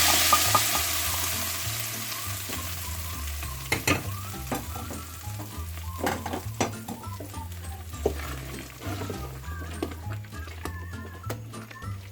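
Tadka tempering for haleem sizzles and crackles steadily in hot oil, with a continuous frying hiss broken by sharp pops and occasional stirring clinks, close and alone without speech.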